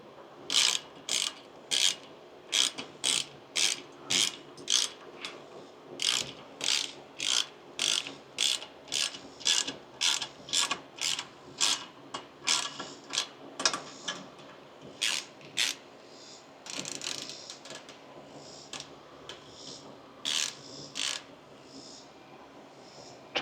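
A ratchet tightens down parts for a pickup truck modification, clicking out in quick bursts of even, close-up clicks with short pauses between strokes and no talking.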